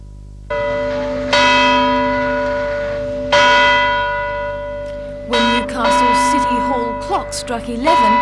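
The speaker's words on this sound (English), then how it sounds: "struck 11, its chimes pierced the air" A city clock's chimes strike eleven on Remembrance Day in 1982, loud, ringing bell tones sounding one after another and decaying slowly, with a fainter, busier clang toward the end.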